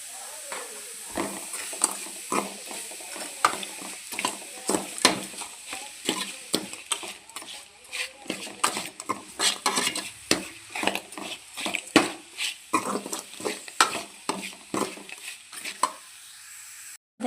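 A spoon scrapes and stirs thick carrot halwa with grated jaggery in a pan, producing repeated uneven clacks and soft sizzling over a low hiss, close and steady throughout.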